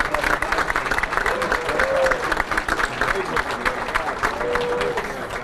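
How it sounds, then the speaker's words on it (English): At a 2006 Pennsylvania Sports Hall of Fame banquet, a crowd applauds Milt Halstead with steady, close clapping, mixed with voices and cheering from the room. "A big round of applause for Milt Halstead."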